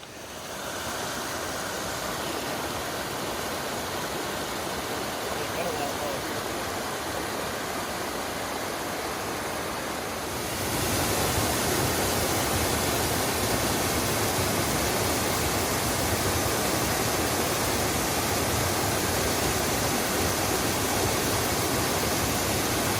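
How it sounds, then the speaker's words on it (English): A waterfall at Winding Stair Gap roars as steady broadband rushing water, loud and continuous, growing stronger partway through, with no voices. "there's a waterfall"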